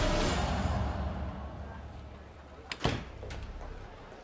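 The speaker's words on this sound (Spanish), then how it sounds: "Cierra la puerta." A door is shut in an office, a single dull thump with a brief rattle after a quiet stretch of room noise, fairly close with no talk.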